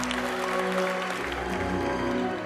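A hall full of diners applauds a chef with dense, sustained clapping that stays even and fairly loud throughout.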